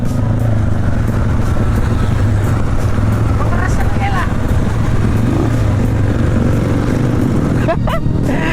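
Crowd of motorcycles revving engines loudly at a street gathering, with a dense continuous engine roar filling the whole stretch and people talking underneath.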